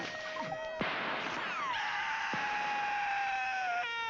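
Horror movie screams, a long shrill scream with sharp thuds and crashing impacts around it, playing loudly and continuously with no talk over it.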